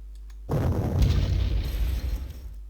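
Artillery fire in the Panzer Corps strategy game, a loud booming blast that hits suddenly and then rolls into a long rumbling, crackling tail lasting about two seconds, with no voices.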